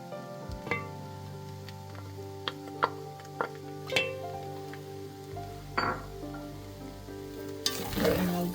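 Onions for beef samosas dropped into a pan and stirred, with scattered clinks and taps of a utensil over a low sizzle that swells louder toward the end, close by and without speech.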